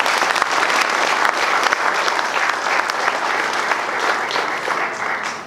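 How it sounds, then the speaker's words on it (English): Loud, full applause from a crowd at a resort event in Dominica, honoring an ambassador and his team, continuous and dense for over five seconds before tapering slightly at the end. "they deserve a round of applause"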